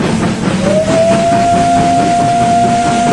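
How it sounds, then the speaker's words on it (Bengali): A coal-fired steam locomotive whistle sounds as a long, steady, loud tone that holds for several seconds over the rumbling noise of a moving train. "ট্রেনটা একরাশ কালো ধোঁয়া আর ছাই উড়িয়ে ঢুকলো ঝাঁঝাগঞ্জ নামক এক স্টেশনে।"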